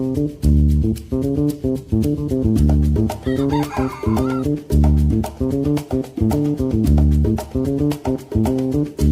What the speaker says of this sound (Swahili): najishughulisha na ufugaji wa aina mbili, kuku wa kisasa na kuku wa kienyeji kama ulivyoweza kuona hapo ndani